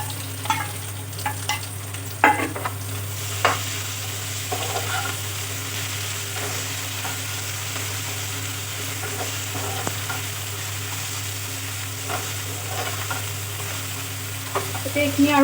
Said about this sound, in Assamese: এতিয়া এইখিনি আৰু অলপ টাইম ভাজি ল'ম, আদা নহৰু কেঁচা গোন্ধটো যোৱালৈকে।